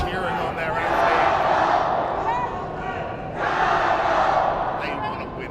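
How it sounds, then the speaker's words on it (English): Chinese fans cheer and shout for their athlete in a packed arena at an Asian mixed martial arts championship final in Bangkok, a loud continuous crowd roar that swells twice, with voices mixed in. "The Chinese fans are cheering on their athlete."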